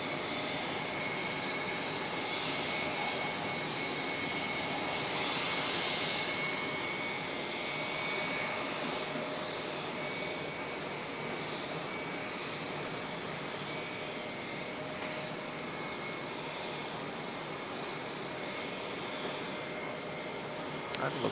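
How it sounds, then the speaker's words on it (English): An ATR turboprop approaches Auckland Airport to land, a steady, moderately loud engine drone holding for about twenty seconds with a faint whine, no voices over it. "ATR coming in"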